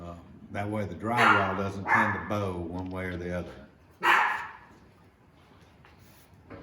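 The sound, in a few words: dog barking in workshop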